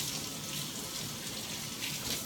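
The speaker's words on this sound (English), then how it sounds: "I'm going to rinse these out." Fresh mint from a city balcony garden rinsed under a running tap, giving a steady, fairly soft hiss and splash of water that continues evenly throughout with no talking.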